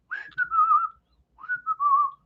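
A person whistles a tune alone and up close in two clear, sliding phrases separated by a short breath pause.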